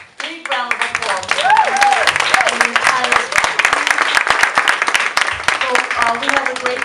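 An indoor audience at an affordable housing workshop breaks into sustained applause, a dense, close wash of clapping hands that swells within the first second and holds steady to the end, with a voice briefly audible early on.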